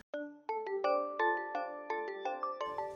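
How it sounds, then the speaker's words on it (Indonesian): A mobile phone ringtone for an incoming call plays a bright, bell-like melodic chime of repeated notes, clear and close for about three seconds with no speech. "Maaf sebentar, ada telepon masuk saya."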